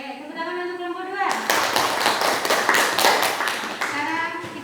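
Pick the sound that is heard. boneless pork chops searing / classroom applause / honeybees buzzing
classroom applause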